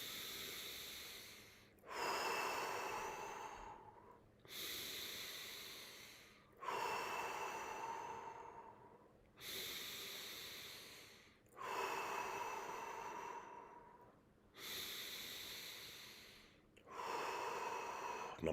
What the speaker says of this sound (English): Breathe to the belly, nose in, mouth out.